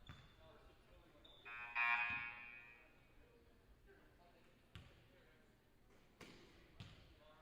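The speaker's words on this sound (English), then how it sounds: "Inadvertent buzzer." Brief electronic buzzer sounding in a gym during a junior varsity girls' basketball game, a faint tone lasting under a second, followed by scattered ball bounces and thuds, with quiet crowd murmur throughout.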